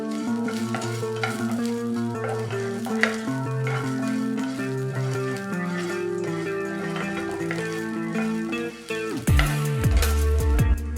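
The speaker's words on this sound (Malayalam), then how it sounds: "കൂടെ 1 ടീസ്പൂൺ കുരുമുളക്, ഇത്രയും ചേർത്ത് ഇനി നന്നായിട്ട് ഒന്നുകൂടെ വഴറ്റിയെടുക്കുക." Masala with tamarind and black pepper is sautéed in a pan, giving a steady sizzle and frying crackle with scraping stirs throughout, close and continuous, with a louder burst near the end.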